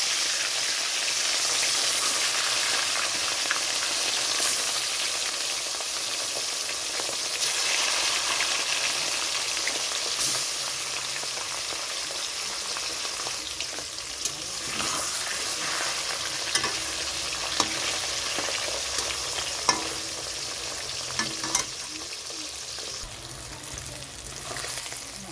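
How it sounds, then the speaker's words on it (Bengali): Pieces of rohu fish fry in hot mustard oil in a wok, with a continuous bubbling sizzle and occasional stirring scrapes and clinks throughout, close and fairly loud with no voices. "কড়াইতে সর্ষের তেল দিয়েছি, তেলটা গরম হয়ে গেছে তো মাছগুলো ভেজে নেওয়ার জন্য ছেড়ে দিচ্ছি"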